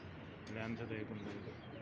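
Golden pigeons give low, rolling coos nearby, with a swell of bird calls in the middle while a voice speaks faintly underneath.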